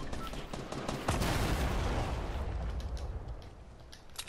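Rapid bursts of gunfire and heavy impacts in a Fortnite battle, dense and loud, with a big blast a second in and continued shooting trailing off, no clear speech.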